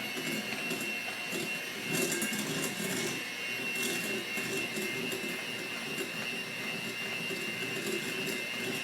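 An electric mixer blends an egg and a teaspoon of vanilla into soft butter-and-sugar dough for chocolate toffee cookies, a steady whirring motor drone running throughout at moderate volume with no talk.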